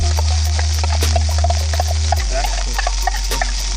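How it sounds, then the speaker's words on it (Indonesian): Spice paste sautéing in a pan, a close sizzle and hiss with scattered crackles and scraping stirs in an uneven rhythm over a low steady hum. "Kita tumis terlebih dahulu bumbu ini hingga aroma harumnya keluar."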